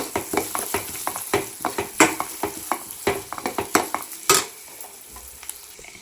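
Turmeric stirred into a curry of tomato and dried prawns frying in oil, a spoon scraping the pan in a quick run of sharp clicks and scrapes over a steady sizzle, then a quieter tail near the end.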